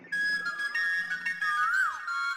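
A person whistles while a film plays, a single clear, sustained tone that holds steady and then bends up and down in a short warble near the end, over soft background sound.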